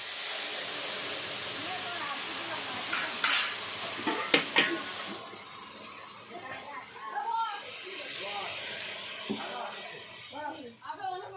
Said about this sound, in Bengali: ডালটা ভেজে নিয়েছি এখন দিয়ে দেবো উষ্ণ গরম জল